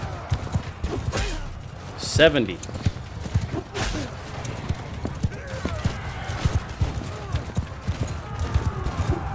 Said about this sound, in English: I'm sorry, the horse archers.